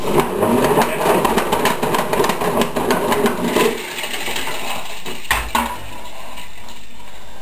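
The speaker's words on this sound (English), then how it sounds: "And now it needs to be spun dry. So we'll take it over to the spinner." A wafer spin dryer in a clean room whirs with rapid rattling pulses that give way to a steadier, quieter hum, with a sharp knock partway through; close and fairly loud.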